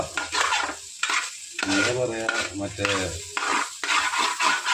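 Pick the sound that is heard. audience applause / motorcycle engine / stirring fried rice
stirring fried rice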